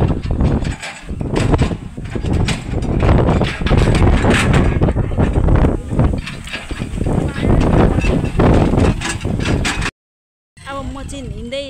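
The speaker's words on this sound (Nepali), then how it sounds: "हावा हानिरहेको छ।" Gusty wind sweeps through a rural village, roaring loudly and buffeting the microphone almost without pause before a brief silence, with voices faintly underneath.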